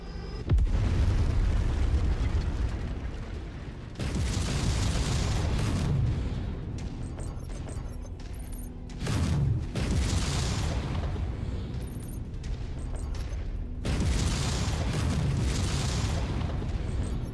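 Targets blow up in a BattleTech video game as a series of heavy, booming explosions, several loud blasts with rumbling tails spaced a few seconds apart, with no talk over them.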